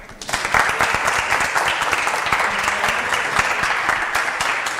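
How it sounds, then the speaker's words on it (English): A conference audience at PyCon Colombia 2023 breaks into steady applause, dense clapping that swells in within the first moments and holds loud and sustained throughout. "So please, a big applause."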